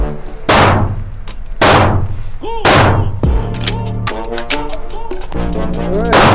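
Striker-fired pistols fire on an outdoor range: several sharp, loud reports spaced about a second apart, each followed by a short echo, while people talk between and over the shots.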